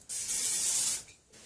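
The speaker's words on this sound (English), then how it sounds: "non-stick spray" Non-stick cooking spray hisses into bowls for baguette dough in two bursts, a long steady spray followed by a short one, close and clear.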